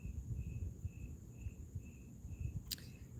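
Crickets chirp steadily in a regular pulsing rhythm, faint and distant against low background rumble, with a brief sharp click near the end.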